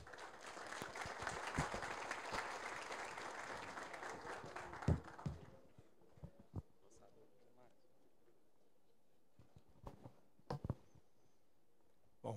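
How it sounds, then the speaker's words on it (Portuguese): An evening audience applauds chief economist José Márcio Camargos of Genial Investimentos with full, steady clapping that dies away after about five seconds, leaving a few sporadic claps and knocks in a quiet room. "Uma salva de palmas"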